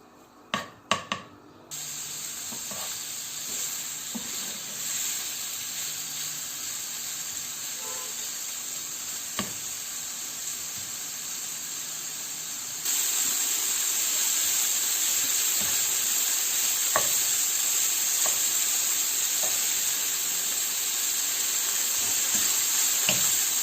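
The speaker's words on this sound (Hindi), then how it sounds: "बटर के अंदर हम इसको फ्राई कर लेंगे जरा।" Chicken frying in butter over medium heat for restaurant-style butter chicken, a steady hissing sizzle after a couple of sharp knocks at the start, growing louder partway through and continuing close and unbroken with no talking.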